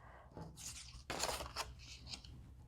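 Scissors snip through a paper shape, giving a few quiet, close crunching cuts with soft rustling between them and no talking.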